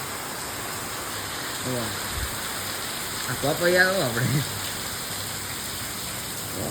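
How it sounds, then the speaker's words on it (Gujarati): Steady rain mixed with hail hisses continuously in the background in a village while a voice speaks briefly in the middle. "ફૂલમ ફૂલ વરસાદ આવે છે અત્યારે"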